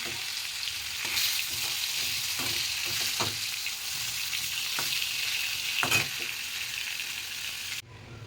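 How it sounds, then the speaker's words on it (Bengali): Spices frying in hot oil for a potato curry, a continuous soft sizzle with several scraping stir strokes of a spoon against the pan, close and fairly quiet. "আমি মশলাটা কষিয়ে নিচ্ছি"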